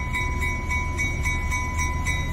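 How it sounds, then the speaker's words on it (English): A narrow gauge railroad train running steadily, its low engine rumble joined by a sustained whistle-like tone and faint rhythmic clicking, continuous and fairly close with no talking. "This is the 3 o'clock train."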